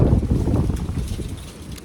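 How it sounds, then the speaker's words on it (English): Gusty wind buffets the microphone with a loud, low rumbling roar that slowly eases off. "Windy day, have you noticed that?"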